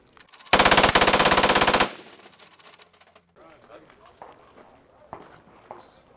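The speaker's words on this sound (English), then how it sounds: "Now we're going to switch to the low rate of fire." Machine gun fired on a low rate of fire at an outdoor range, a loud burst of rapid, evenly spaced shots lasting over a second, followed by quieter clattering and faint voices.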